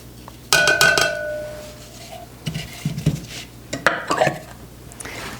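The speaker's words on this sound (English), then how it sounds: "So let me continue to clear off these trays. Using a plastic or silicone spatula works nicely" A plastic or silicone spatula scrapes freeze-dried eggnog powder off metal freeze dryer trays, with a sharp tray clank and ringing at first, then scattered scraping and tapping bursts close by.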